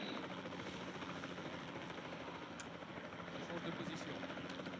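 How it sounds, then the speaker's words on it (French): Helicopter rotor and engine drone from the video game Jurassic World Evolution, a steady loud continuous whir that runs throughout, with a voice talking over it. "Donc, hélico, hélico, hélico, hélico."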